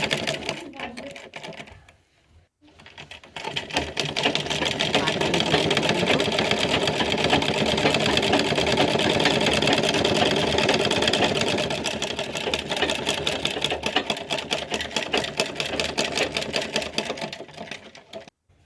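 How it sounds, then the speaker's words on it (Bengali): A sewing machine stitches a blouse, a fast steady mechanical rattle that starts after a brief pause and runs continuously at close range, slowing slightly toward the end. "এদিকে আবার ব্লাউজটা একটুখানি সেলাই করে নিই।"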